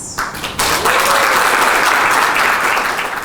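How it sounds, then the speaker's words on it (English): An audience at a youth innovation event breaks into applause for a speaker, with dense, loud clapping that swells quickly and holds steady. "Ladies and gentlemen, please give a round of applause to Karen Chela."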